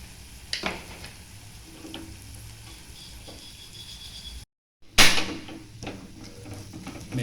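Green beans and chilli pieces fry in a pan with a steady close sizzle, punctuated by stirring clatters and a brief gap before the hiss returns louder.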